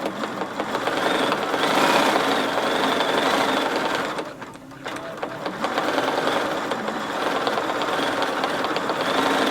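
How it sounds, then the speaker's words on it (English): A Bernina sewing machine with a stitch regulator stitches steadily along a ruler, a loud, continuous mechanical whir that pauses briefly midway and then resumes. "I'm going to push the button, activate it, and then I'm just going to follow at an angle"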